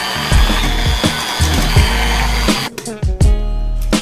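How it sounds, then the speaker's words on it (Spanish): An electric hand mixer whirs loudly as it beats creamy butter with stevia sugar, a steady motor drone broken by clattering knocks of the beaters against the bowl and brief changes in speed. "se lo vertimos a la mantequilla cremosa y lo volvemos a batir"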